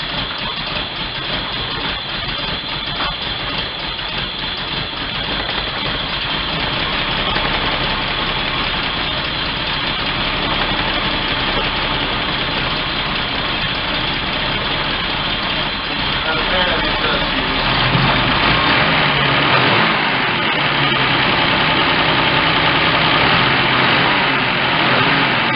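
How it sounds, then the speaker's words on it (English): An MG MGC GT engine running on carburetors idles roughly and will not settle without the choke. It holds a loud, continuous uneven rumble close by for the whole stretch, with the tone shifting slightly near the end. "Does not want to idle without the choke."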